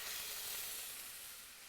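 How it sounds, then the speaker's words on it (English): Steak searing in clarified butter in a pan, a loud, even, continuous sizzle heard up close with no talking over it, fading slightly toward the end. "beautiful sizzle."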